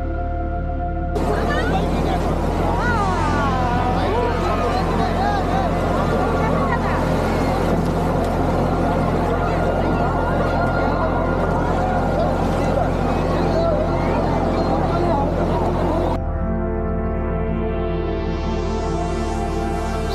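A motorboat carries passengers out on the sea at Digha, its engine a steady, loud drone under continuous chatter from people aboard, before the noise shifts near the end.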